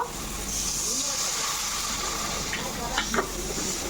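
Ground cumin and coriander paste fries in oil for a bhola fish paturi, giving a steady close sizzle and hiss. A few sharp stirring scrapes come near the end, and no one speaks.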